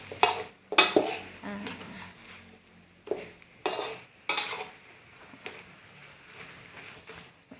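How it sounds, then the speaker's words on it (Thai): Minced pork is stir-fried in a pan, with scraping and clanking utensil strokes in irregular bursts over a soft background sizzle, close and moderately loud. "ผัดจนกว่าหมูจะสุกนะ พอหมูสุกแล้วเราค่อยปรุง"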